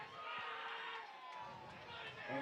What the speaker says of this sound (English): I can hear someone going nuts in the crowd.